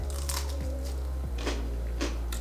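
Crisp crunching bites into a crunchy battered vegan prawn, a few close, sharp crackles heard alone without talk.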